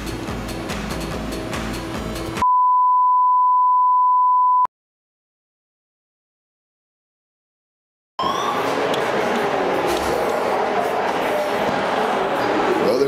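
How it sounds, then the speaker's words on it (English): A steady, loud electronic fire alarm tone sounds alone in a building at night for about two seconds, then cuts off into silence before noisy crowd sounds return. "there's been a fire alarm reported in the building"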